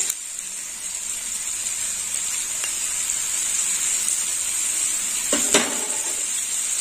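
Ginger paste sizzling in hot oil in a pan while cooking a jackfruit and chana dal dish, a steady bright hiss throughout with a couple of faint clinks near the end.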